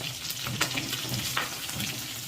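Boiled duck eggs fry in oil in a pan over a lowered gas flame, a soft steady sizzle with a couple of brief scrape-like bumps as they are lifted out.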